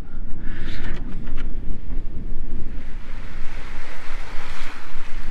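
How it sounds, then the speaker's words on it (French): Strong wind gusts roar across the microphone while waves wash steadily against a sailboat under way in the Bahamas, loud and continuous with no talking. "Bon, ça souffle, on a pour le moment des rafales à 18."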